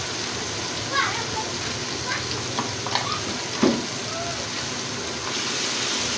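Chicken tikka salan masala frying in a pan, a steady soft sizzle throughout with a few faint stirring clinks and scrapes, close and moderately quiet.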